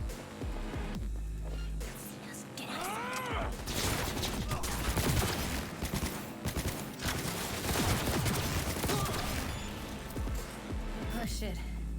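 Rapid tech weapon gunfire in the video game Cyberpunk 2077, dense bursts of shots running through most of the stretch with a loud bed of game noise, under a speaking voice.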